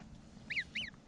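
Two short honks from geese sound in quick succession at moderate distance over a quiet outdoor background.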